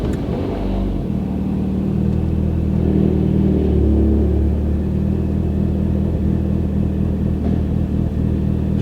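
A 2020 Mini Cooper S engine with a damaged front cranks briefly, catches and settles into a steady, loud, close idle rumble that holds for several seconds. No one talks.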